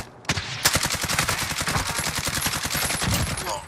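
Rapid automatic gunfire from a CR-56 AMAX rifle in Call of Duty Modern Warfare Warzone multiplayer, a steady close burst of evenly spaced shots running for several seconds with little talk.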